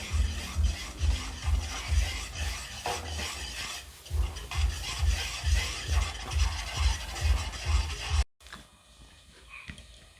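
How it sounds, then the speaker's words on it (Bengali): A spoon scraping round a kadai in rhythmic strokes as milk powder is stirred into warm water, with regular close scrapes that stop abruptly near the end, leaving quiet room tone. "জলটা গরম হয়ে গেছে, গুঁড়ো দুধটা দিয়ে দিচ্ছি। ভালোভাবে মিশিয়ে নেবো এটাকে।"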